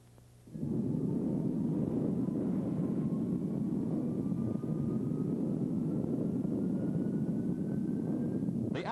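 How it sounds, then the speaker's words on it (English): An Avro C-102 Jetliner's jet engines spool up abruptly and hold a loud, steady roar with a slowly rising whine as the aircraft taxis. "The Avro C-102, the product of Canadian engineers and designers, the first jet transport on the North American continent, once again taxied out to the runway"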